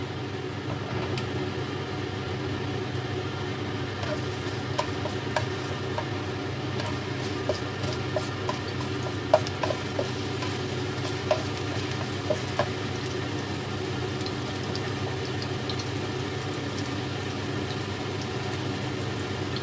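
Ginger sautés in a pan as the first step of a Filipino adobong kangkong, a steady, soft sizzle over a low constant hum with occasional small clicks and taps.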